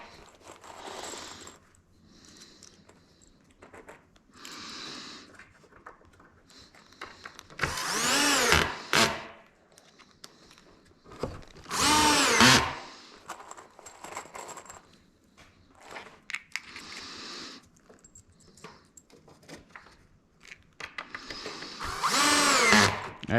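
A power drill whines in several loud bursts, a couple of seconds each, drilling holes in wood for a porch swing, separated by quieter handling noises and clatter.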